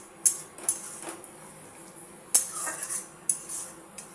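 Chilli powder and salt being stirred in a pan for a Bengali shorputi fish curry, heard as sharp metallic clinks of a spoon against the pan, several separate scrapes and taps over faint background sizzle, no talk.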